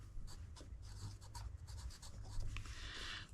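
Pen scratching across paper in short bursts during a crochet pattern write-up, close and fairly quiet over a low steady background hum, with no talking.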